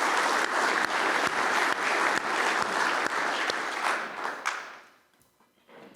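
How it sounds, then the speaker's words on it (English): Applause from the audience at an awards ceremony during an annual meeting, a full, even round of clapping with a few sharp claps standing out, fading away over the last second. "And another applause for them briefly."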